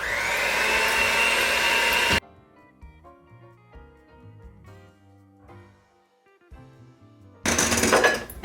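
An electric mixer whirs loudly while mixing gluten-free raisin spice bread batter, running steadily for about two seconds, stopping for a quiet stretch of soft music, then starting up again at the end.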